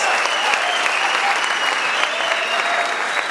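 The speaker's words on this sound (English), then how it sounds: "Yes, you can applaud for yourself" Graduating MBA class at a business school ceremony applauding themselves: a dense, steady wash of many hands clapping from a large crowd, sustained evenly throughout.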